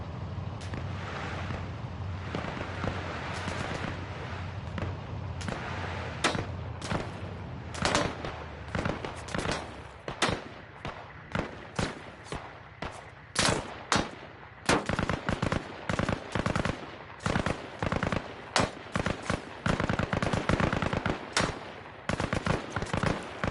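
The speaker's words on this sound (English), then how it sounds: "There's some rapid fire." Rapid bursts of automatic gunfire from the video game Arma Reforger in the Arland setting, loud sharp cracks coming in quick clustered volleys over a steady background rumble, growing denser toward the end.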